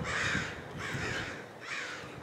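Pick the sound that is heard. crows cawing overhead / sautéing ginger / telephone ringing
crows cawing overhead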